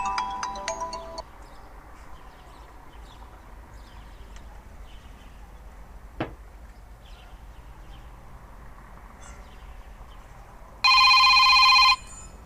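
A telephone rings close by in short electronic bursts, once at the start and again as a loud, steady tone near the end, with quiet room noise in between.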